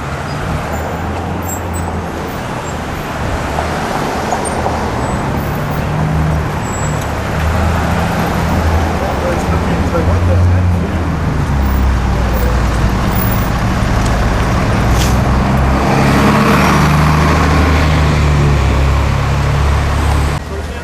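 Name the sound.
car passing in road traffic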